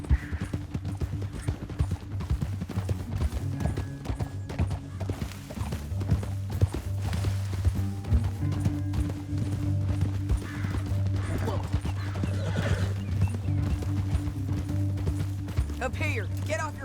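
Horse hooves clip-clop steadily in Red Dead Redemption 2 as riders move through a canyon, a continuous rhythmic patter under a low droning game soundtrack, with voices speaking over it at times.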